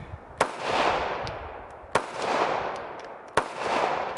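Three sharp gunshots ring out at an outdoor shooting range, evenly spaced about a second and a half apart, each followed by a long rolling echo that fades before the next; loud and fairly close, no voices.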